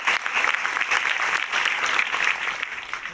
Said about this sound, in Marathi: त्यांच्यासाठी एकदा आपण टाळ्या वाजवायला पाहिजे